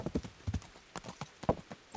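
Horse hooves clip-clop on hard ground in the Kingdom Come: Deliverance video game, a ridden horse stepping in an uneven rhythm of sharp, fairly close knocks with short gaps between them.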